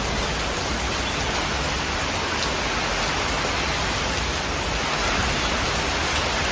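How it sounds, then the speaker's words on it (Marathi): Heavy rain falls outside in a dense, unbroken roar of broadband hiss that stays loud and steady throughout, with no voices. "बाहेर किती पाऊस पडायला लागला"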